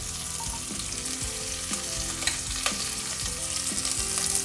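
Chopped onions and green chillies frying in a pan of oil for a pulao, a steady close sizzle with stirring scrapes and a few sharper crackles, no voices.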